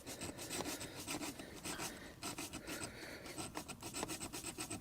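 Rasping, saw-like cutting on the thermostat housing of a Rover 75 during a repair, a steady run of close strokes repeating for several seconds with no talk.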